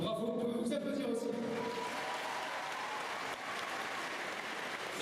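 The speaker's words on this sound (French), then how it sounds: "Donc bravo, on peut vous applaudir aussi." A packed convention hall audience at a manga event applauds steadily, a dense wash of clapping under a murmur of crowd voices and some tonal background sound that fades in the first couple of seconds.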